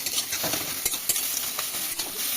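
Food frying in oil in a pan is stirred continuously, a dense close sizzle punctuated by repeated scraping and clattering strokes of a utensil, with no talking.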